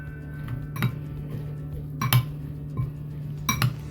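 Spoon clinking against a bowl while green chilli pickle is mixed with vinegar, sharp metallic taps coming in small clusters over a low steady hum, close and moderately loud.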